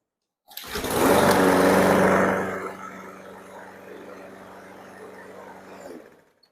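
A Husqvarna push mower's small engine cranks and catches, roaring loudly for a couple of seconds before settling into a steady, quieter idle close by, then cutting off.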